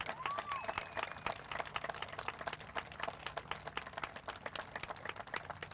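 Applause and cheering from a crowd at a Purple Heart plaque ceremony for D-Day veterans of LST 393, a faint, steady patter of clapping with a few whistles.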